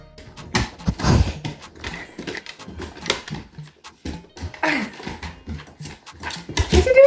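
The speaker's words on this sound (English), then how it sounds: "Doggos." Dogs being greeted at home, with scattered clattering, thumps and short bursts of activity up close, faint whimpers and panting-like noises coming and going, and a brief high squeak near the end.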